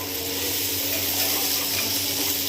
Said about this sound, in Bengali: দিয়ে নেড়ে ছেড়ে জল ঢেলে দেব